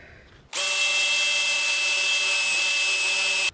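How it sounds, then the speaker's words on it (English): A power drill boring a pilot hole while restoring a Nintendo Vs. Dual System (Red Tent) arcade cabinet: after a brief quiet start the motor kicks in abruptly with a loud, steady high whine that holds evenly and stops at the end. "So once you get the pilot hole drilled"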